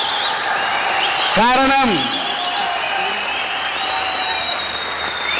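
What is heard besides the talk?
audience applause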